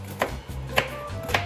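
Knife chopping onion for a pressure-cooked dish, three crisp, fairly quiet cuts about half a second apart with a faint tone in the background.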